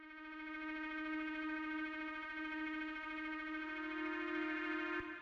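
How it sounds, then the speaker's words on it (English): A warm, textured ambient synth pad, made of two layered sounds playing the same notes, holds a steady sustained chord with rich stacked harmonics, alone and moderately quiet, ending with a brief click. "the first sound that we have here is this pad"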